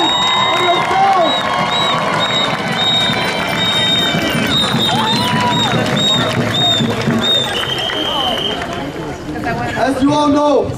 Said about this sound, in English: please give yourselves a round of applause and make some noise for yourselves